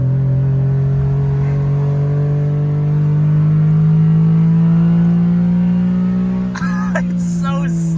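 A small Honda JDM car strains near redline at about 40 mph, its close, loud engine droning with a steadily climbing pitch, joined by a short burst of higher sound near the end.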